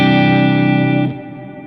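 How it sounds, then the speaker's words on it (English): An electric guitar chord rings through a rich, long reverb on a Helix Stadium processor, loud and sustained before cutting off into a softer decaying tail, with no voices. "I think it's one of those new Algora kind of models of the reverb"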